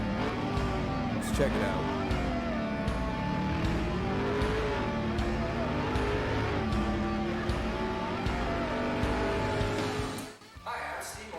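The DEVEL Sixteen car engine revs hard and sustained, with pitch climbing and dipping through throttle blips, played back loudly while someone talks over it. The engine drops away abruptly near the end.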